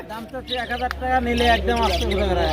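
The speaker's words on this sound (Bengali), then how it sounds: "এইখানে এক জোড়া খুব সুন্দর রেনবো বাজিগার রয়েছে" Sharp, chattering squawks and chirps from a pair of rainbow budgerigars close by at a bird market, overlapping with a person talking and a low electrical hum.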